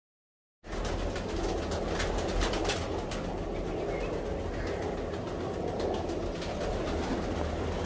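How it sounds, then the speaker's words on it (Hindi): Pure Teddy breeder pigeons, all males, coo in a loft cage amid a dense, steady wash of rustling and low rumbling noise that starts abruptly and continues evenly throughout. "ये सब के सब प्योर टेडी ब्रीडर कबूतर हैं, ये सब के सब नर हैं।"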